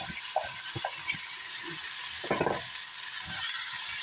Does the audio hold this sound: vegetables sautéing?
yes